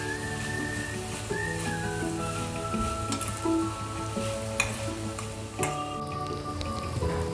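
Chopped tomato and vegetables sauté in hot oil for kantoli (spiny gourd) bhaji, giving a steady close sizzle with light stirring scrapes over a constant background tone.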